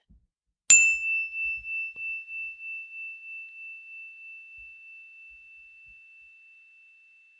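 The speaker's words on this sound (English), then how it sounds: "you just hit the tone bar and you ask them to raise their hand once they can no longer hear the sound" A single strike on a tone bar rings out clearly, then a pure, soothing tone sustains and slowly fades over several seconds in near silence.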